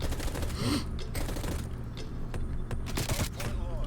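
Gunfire in Black Ops Cold War multiplayer, a dense fusillade of rapid shots in bursts over a constant low rumble of game ambience, fairly loud and close, with occasional sharp cracks toward the end.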